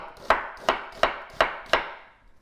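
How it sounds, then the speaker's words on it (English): A knife slicing a vegetable lengthwise on a cutting board, five crisp, evenly spaced chops in a steady rhythm, close and clear with no talk. "then we just slice it lengthwise"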